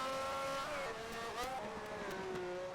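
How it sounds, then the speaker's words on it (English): A 1971 Ferrari race car on a road course spins out after its rear tire drops onto the grass, engine note wavering and sliding in pitch as it loses grip, loud and close, with a brief squeal of tires. "Back tire getting on the grass, and it was just enough to send it spinning like a top"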